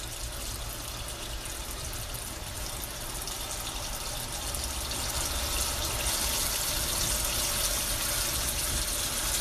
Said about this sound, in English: Now we're just going to use some cold water.